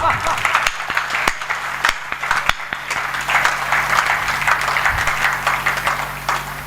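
Audience applause at a Hindi poetry recital, a broad wash of clapping rising after a line about guarding Mother India, with the poet's voice continuing over it.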